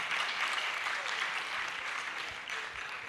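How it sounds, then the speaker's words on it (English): A round of applause from the audience at a regional school quiz championship final, continuous clapping at a moderate, somewhat distant level, slowly tapering slightly before a brief renewed swell. "Please, let's give her a round of applause once more."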